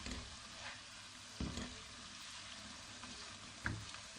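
A milk and rice mixture for Multani rice halwa is stirred in a pan, giving a faint, even frying hiss with two brief, louder scrapes of the spoon.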